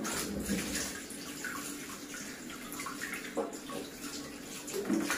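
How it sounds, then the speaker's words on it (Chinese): Freshly picked green plums being washed in water, a continuous close sloshing and splashing with small gurgles and dripping, no voices. "采摘回来的青梅清洗干净"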